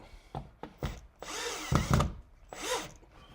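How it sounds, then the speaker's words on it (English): A power drill bores a hole up into an attic ceiling in a garage, running in several short bursts and then a longer, louder grinding run, close by. "I'm going to drill a hole up into the attic to allow the flexible gas line to be run down"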